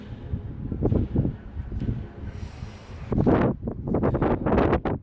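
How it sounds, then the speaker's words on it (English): Strong wind blows outdoors at a night stargazing spot, buffeting the microphone in loud, uneven gusts that roar and rumble throughout. "The wind is not playing ball at the moment because it's extremely windy"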